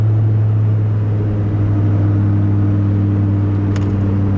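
A 2002 Dodge Viper RT/10 with an 8-liter V10 cruises at highway speed near 1,400 RPM, giving a steady, loud low engine drone and road rumble that holds throughout without talk.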